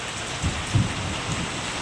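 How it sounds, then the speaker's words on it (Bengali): Steady rain falls after a windy storm has eased, a dense continuous hiss of drops on surfaces with a couple of soft low thumps, close and even throughout. "ঝড়টা একটু কমলো এখন বৃষ্টি পড়ছে"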